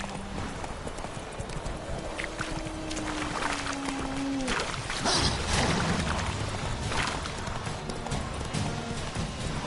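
Hooves of Roach, the horse in The Witcher video game, clip-clop at a gallop across a busy outdoor soundscape, moderately loud and steady, with a brief tonal glide and swelling ambience partway through.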